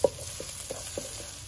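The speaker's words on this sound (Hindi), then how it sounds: "तो प्याज जो ऑलमोस्ट फ्राई हो चुके हैं" Onions frying in a pan for a dhaba-style egg curry, a soft steady sizzle with a few spoon scrapes and taps spaced across the moment, fairly quiet and close, no voices.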